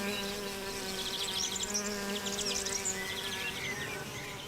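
Bees fly among flowers while foraging for nectar and pollen, giving a steady, close insect buzz that holds through the whole stretch, with no voices over it.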